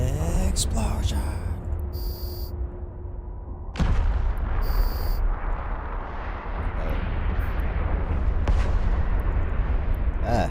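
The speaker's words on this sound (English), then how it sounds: "Ah, this is a bigger explosion than I expected." Destroyed structure blowing up in the space game Eve Online: loud, sustained rumbling blasts with sharp bursts near the start and again around four seconds, a dense low roar filling the whole stretch.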